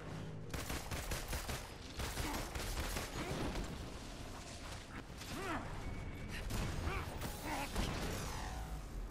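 Bursts of rapid gunfire and mechanical clanks from the video game Marvel's Avengers, with repeated sharp shots, whooshes and metallic impacts layered at fairly even loudness, and a brief voice murmur underneath.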